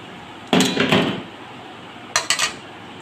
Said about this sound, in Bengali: এখানে মুগের ডাল আছে, ভেজিটেবল মুগের ডাল। নাড়াচাড়া করে দেবো